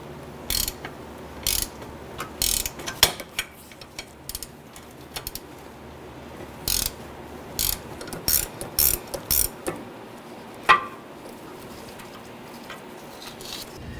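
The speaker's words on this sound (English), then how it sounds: "it'll be ideal if you have a gear wrench or ratchet wrench or something like that to go ahead and start zipping these out" Gear ratchet wrench spinning out bolts on a 1999-2004 Jeep Grand Cherokee during rear upper ball joint replacement, a run of short rapid clicking bursts in a quiet garage, repeating irregularly and fairly close.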